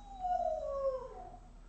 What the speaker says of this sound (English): Did you hear the howl? It's terribly cute.